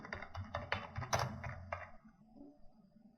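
Quick, light taps on a computer keyboard while a search is typed, a rapid run of close clicks that thins out into quiet room tone.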